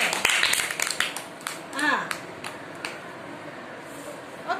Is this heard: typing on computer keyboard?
no